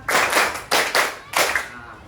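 An audience at an Indonesian workshop on computational thinking claps in unison in short rhythmic groups, three sharp bursts of many hands close together with brief gaps between them.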